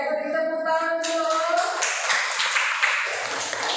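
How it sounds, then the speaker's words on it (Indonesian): Students clap during a recorded economics class after a melodic chime fades out, a brisk patter of hands that rises, holds for a couple of seconds and then thins as a voice comes in. "beri tepuk tangan dulu"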